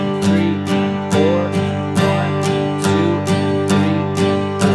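Acoustic guitar strummed in a steady pattern of down and up strokes moving from quarter to eighth notes, sharp regular strikes with ringing chords between, close and alone without talking.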